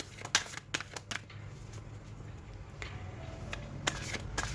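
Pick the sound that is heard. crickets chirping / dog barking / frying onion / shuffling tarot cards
shuffling tarot cards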